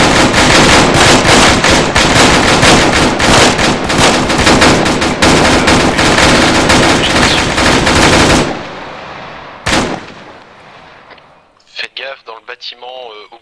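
Loud, rapid machine-gun bursts fire almost without pause in a military combat simulation game, the dense rattling volleys running for about eight seconds before cutting off, followed by quieter radio-style voices talking.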